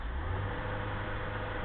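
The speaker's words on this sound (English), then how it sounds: "Turn on the power takeoff, back to neutral, let the clutch out slow, and the blower will engage." A truck's power takeoff engaging a blower, with a steady low engine drone and whir holding constant throughout, close and moderately loud, no talk.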